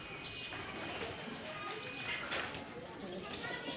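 A young pigeon arrives and lands at a Faisalabad loft in the early evening, with soft cooing and light flapping mixed into steady outdoor background noise, while people talk nearby.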